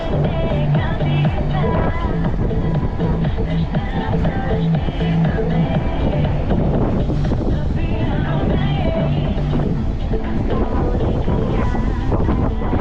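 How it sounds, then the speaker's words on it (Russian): Strong, steady cold wind in Crimea buffets the microphone throughout, a constant rushing roar with no breaks. "Ох, какой ветер холодный."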